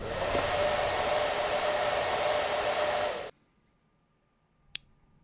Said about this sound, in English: Did we just stick our face in the dryer?